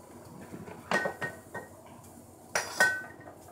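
Metal tongs and a spatula clink and scrape against a pan while mixing burrito filling, with a few separate sharp clatters spaced out over a quiet background.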